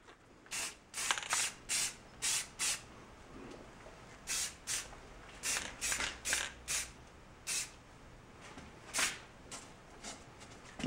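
Aerosol spray paint can laying quick coats on motorcycle brake parts: a series of sharp hissing bursts, each about a third of a second, in uneven clusters with short pauses, close and fairly loud.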